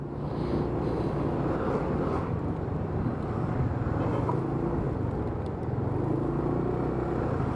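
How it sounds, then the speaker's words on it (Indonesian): Large trucks driving fast along a road, a loud steady roar of engines and tire noise that fills the whole stretch without a break, passing close by. "Truknya itu termasuk kenceng ya kalau di jalan segini."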